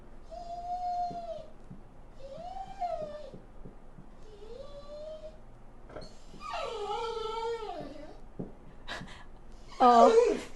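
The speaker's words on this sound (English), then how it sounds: "My dog is actually a golden retriever." A golden retriever whimpers and whines in a series of high, drawn-out cries, quiet and close, rising to a more agitated yelp near the end.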